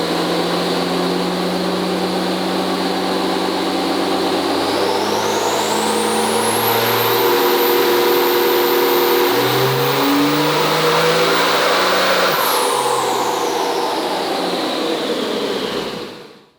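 A high-horsepower truck engine on a dyno revs up through a long, loud pull, its pitch climbing steadily with a whining turbo rising over the roar, holding near the top, then dropping off as it cuts out.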